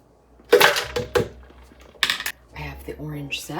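Ice cubes dropping into a blender pitcher, a few sharp hard clatters in quick bursts, close and fairly loud, followed by a brief voice.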